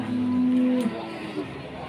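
A single cow or bull at the Pasar Pon cattle market in Blora gives a clear, steady, sustained moo lasting under a second, close by, over a low background murmur of the market.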